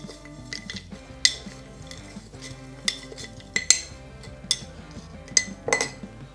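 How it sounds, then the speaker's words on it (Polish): Spices for chilli oil being mixed inside a jar, a spoon clinking and tapping against the glass in irregular, sharp knocks close by, with soft scraping between them and no speech. "Na tym etapie mieszamy nasze przyprawy w słoiku, tak żeby wszystko było ze sobą połączone w miarę."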